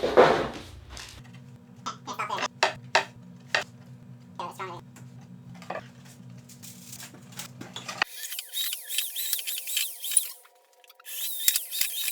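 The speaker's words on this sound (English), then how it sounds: "So let's just drill holes in it" A power drill whirs steadily for several seconds as people talk over it, then stops, followed by a different high-pitched buzzing.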